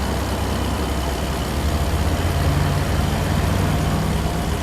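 A bus engine in the video game American Truck Simulator drones loudly throughout, a low heavy rumble with a faint rising whine layered over it, no voices.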